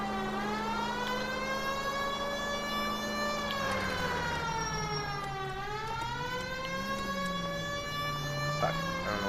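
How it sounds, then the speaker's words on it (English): A nuclear air-raid siren wails continuously in L.A. Noire, its layered tone bending slowly down and back up over a steady, loud wash of noise with no talk. "Sounds like a nuke siren."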